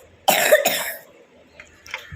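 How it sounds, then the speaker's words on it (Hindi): Two quick, harsh coughs burst out close together at close range, followed by faint throat noise and rustling. "जब भी हम कफ सिरप पीते हैं ना उसके एकदम बाद हमें खांसी आनी शुरू होती है"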